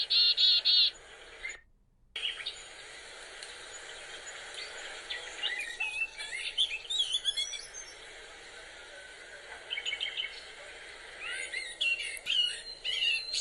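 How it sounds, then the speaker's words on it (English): Winter birds call and chirp in repeated bursts, fairly close and clear, with a brief silent break early on and a busier flurry of calls toward the end. "Even our own backyards offer opportunities to observe winter birds."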